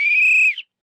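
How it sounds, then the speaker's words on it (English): A referee's whistle gives a single sharp, loud blast of about half a second and then cuts off abruptly, with no talk around it. "When you blow the whistle, we're gonna start."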